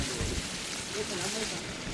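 Steady rain falling during heavy flooding in Jaffna, a dense, continuous hiss that fills the scene with faint low rumbles beneath, and background voices murmur through it.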